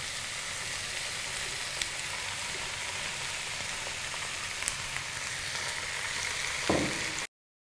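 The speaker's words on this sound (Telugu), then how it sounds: "ఉల్లిపాయ ముక్కలు పచ్చిమిర్చి వేగేయండి ఇప్పుడు ఇందులో కట్ చేసి పెట్టుకున్న ఆలు వేస్తున్నాను అలాగే కట్ చేసి పెట్టుకున్న క్యాబేజీ" Chopped potatoes and cabbage sizzle steadily in hot oil in a pan with onion slices and green chillies, a dense, close crackling hiss that ends abruptly after a brief stir.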